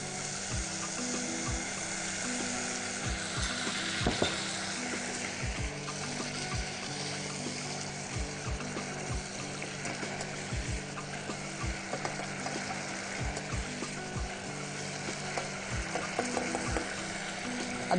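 Potatoes fry in a pan with spices and tamarind water, a steady sizzle with repeated scraping and stirring clicks of a spoon against the pan throughout.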